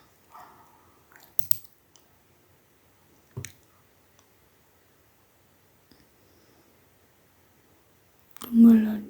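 A few sharp, quiet computer mouse clicks, spaced seconds apart, made while working in image-analysis software on an SEM figure, with a brief louder burst of sound at the end.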